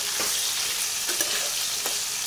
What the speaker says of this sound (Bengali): আলুগুলো এখন লাল লাল করে ভাজা হোক